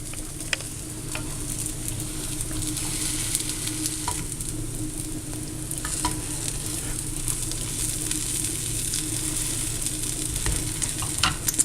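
A galette cooks in a pan with a steady, even sizzle close up, broken by occasional soft ticks and pops and a faint low hum underneath.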